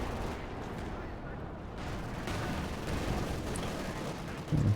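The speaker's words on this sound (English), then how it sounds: "Not to be finished off by the coordinated barrage" Artillery-like booms and gunfire from a Panzer IV barrage in a competitive World War II strategy game, a dense rumbling stream of distant blasts with a louder burst at the end, under faint commentary.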